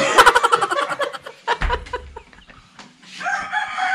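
A rooster in a rural Philippine province gives a loud, close crow among clucking fowl, followed by farmyard noise and brief voices.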